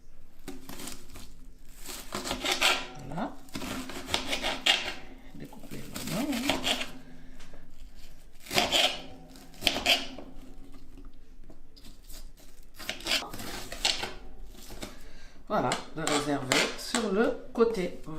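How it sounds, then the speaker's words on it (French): A knife chops an onion on a board while chicken in coconut milk is being prepared: uneven bursts of cutting and board knocks with kitchen clatter between them, close and moderately loud. "Découper l'oignon."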